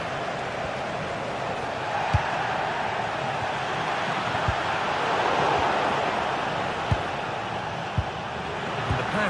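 A steady, dense roar of stadium crowd noise fills a football video game match involving Barcelona, with a few soft low thumps scattered through it.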